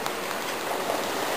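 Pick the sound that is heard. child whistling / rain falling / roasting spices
rain falling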